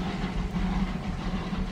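A train pulled by the Maria Fumaça steam locomotive number 68 rumbles past in a steady low drone with a faint rhythmic clatter, moderately loud and continuous with no talking.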